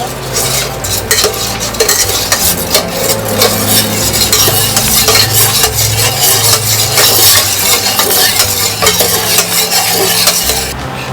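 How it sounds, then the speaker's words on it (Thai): Sugar is stirred in a pot on the stove while making butterfly pea and coconut milk jelly, a continuous loud scraping and swishing that runs throughout with no voices. "คนให้น้ำตาลทรายละลาย"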